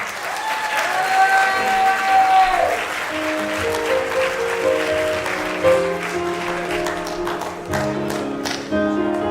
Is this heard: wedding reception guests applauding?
yes